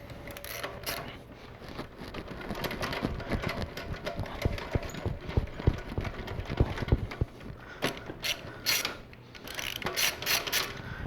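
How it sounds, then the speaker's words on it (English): A 12 mm wrench turns an adjuster bolt counterclockwise to slacken the alternator belt on a Toyota Camry 2.2 litre engine, producing a quick series of faint metallic ratcheting clicks with occasional louder clanks. "Now with a 12 millimeter, turn this bolt counterclockwise till the belt is loose."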